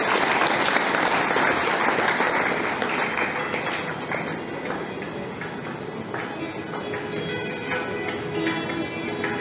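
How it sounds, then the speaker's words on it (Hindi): A large crowd at a spiritual gathering claps loudly and continuously, a dense wash of applause filling the hall for several seconds without letting up. "जोरदार तालियों के साथ"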